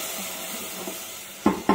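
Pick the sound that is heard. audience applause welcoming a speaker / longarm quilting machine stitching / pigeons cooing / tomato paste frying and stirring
tomato paste frying and stirring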